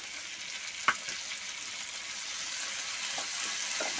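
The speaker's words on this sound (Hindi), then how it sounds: "प्याज थोड़ा सा भुनने के बाद अब इसमें डाल देंगे हम बारीक कटी हुई हरी मिर्च और बारीक कटा हुआ टमाटर" Chopped onion, green chillies and tomato frying in a pan for paneer masala dosa, a steady soft sizzle with one sharp clink of a utensil near the start.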